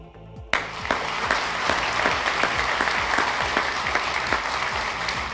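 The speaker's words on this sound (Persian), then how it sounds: "رقمش کم است ولی دلیل نمیشه که شما تشویق نکنین" A studio audience on a Dari-language quiz show breaks into steady, dense applause that starts abruptly and carries on evenly, close and full, with no talk over it.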